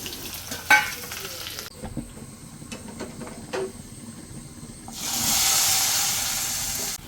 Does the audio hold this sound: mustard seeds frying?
yes